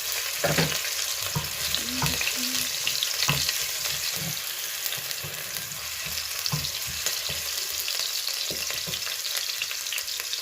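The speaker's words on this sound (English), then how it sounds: "I already have my oil, so I'm going to add my onions. Stir it." Onions frying in oil in a pot for egusi soup, a steady close sizzle with scraping stirs and soft clacks of the spoon throughout, no talking.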